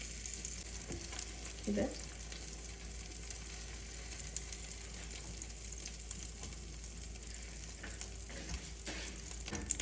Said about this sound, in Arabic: اول حاجه هنعملها ان احنا هنحمص العيش في الزبده بالمنظر ده كده